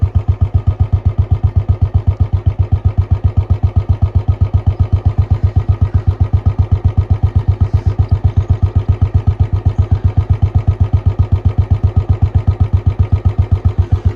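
Close up at the short bottle silencer with C-bend pipe, a Royal Enfield Bullet 350 ES idles in a loud, regular low thump-thump pulse that holds steady and unchanging throughout, with nobody speaking.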